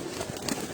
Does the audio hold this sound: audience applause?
no